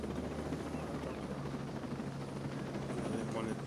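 Helicopter from the Ghost Recon Breakpoint video game coming in to land, a steady low rotor drone with an even thrum held throughout, moderately loud and close.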